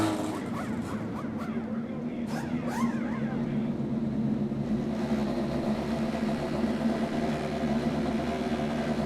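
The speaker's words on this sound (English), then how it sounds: "start your engines" INDY NXT race cars at the Grand Prix of Portland idle on pit lane in a loud, steady engine rumble, with some revving early on and a voice over a loudspeaker talking faintly beneath.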